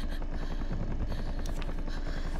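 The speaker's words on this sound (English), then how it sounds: "Chopper!" A helicopter in the horror video game Fear the Spotlight thumps loudly and steadily overhead, with dense rotor chop continuing throughout without a break.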